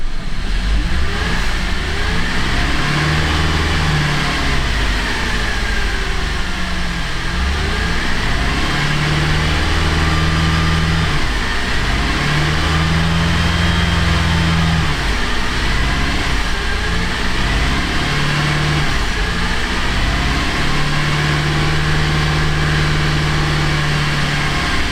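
The engine of a 2011 Buick Enclave that won't stay running is held at steady throttle, its loud, close drone wavering and surging erratically for the whole stretch.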